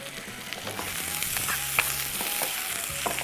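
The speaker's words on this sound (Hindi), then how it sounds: "प्याज को थोड़ा सा कर रहे हैं फ्राई" Onions frying in a pan, a close, steady sizzle with soft crackles and a few light clicks of stirring.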